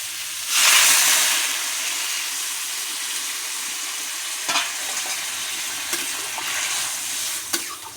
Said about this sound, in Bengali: তো এখন আমি জল দিয়ে দেবো।